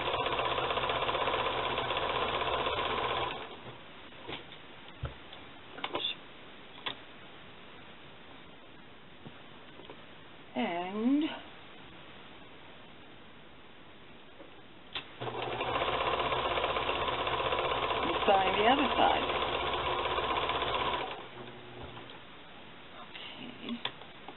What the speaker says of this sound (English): Now the only other thing to do is sew the side seams.